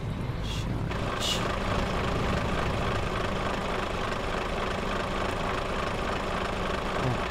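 A truck engine idles in Euro Truck Simulator 2 with a steady, continuous low rumble throughout, and faint brief clicks sound near the start.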